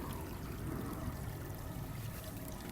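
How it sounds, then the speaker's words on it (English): Water bubbling over stones in a small garden pond stream, a faint, continuous trickling burble with steady level and no speech. "Little areas here where you get a nice natural sound as the water"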